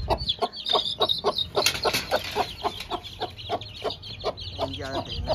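Chicks chirp in a quick, high-pitched stream of cheeps, close by and fairly steady, with soft clucking from a hen mixed in.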